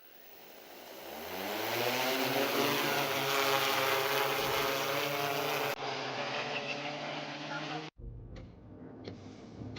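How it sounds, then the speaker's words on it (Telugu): An X6 agricultural spraying multi-rotor drone spins up for takeoff, its buzzing motor whine rising in pitch and growing loud, then cuts abruptly as the sound shifts away. "ఇప్పుడు డ్రోన్ అయితే ఫ్లై చేద్దాము"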